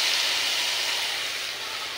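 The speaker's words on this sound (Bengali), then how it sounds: "তো একে একে আমি সব মাছগুলো ভেজে নিয়ে নেব।" Fish, including prawns, frying in hot oil in a home kitchen, a steady bright sizzle and hiss that holds evenly close up, slightly fading toward the end, with no talking.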